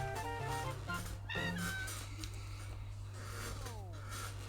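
A bird boss in the video game Captain Toad: Treasure Tracker squawks and clucks in short, chicken-like bursts over a steady game music bed and electronic effects, with no speech.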